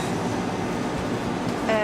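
Restaurant air conditioning units running outdoors in San Antonio, a steady mechanical drone and hum without pause, moderately loud and continuous.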